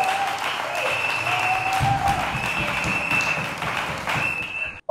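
A church congregation applauds steadily at a revival seminar, a dense, sustained clapping that fills the room throughout, with faint voices mixed in underneath, before it cuts off abruptly at the end.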